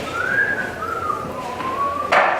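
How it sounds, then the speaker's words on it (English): A person whistles a single sustained, gliding tune that wavers gently up and down, clear and fairly close, ending with a brief noisy rustle. "Stop that whistling!"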